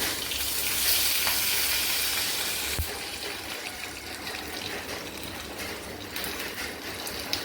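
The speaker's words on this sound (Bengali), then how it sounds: "এবার গোটা তেলের মধ্যে আমি গোটা জিরে দিয়ে দিলাম, একটা শুকনো লঙ্কা" Whole cumin seeds, a dried red chili and bay leaf sizzle in hot oil in a home kitchen pan, a steady broadband crackling hiss that is loudest at first and settles slightly lower, with no talk.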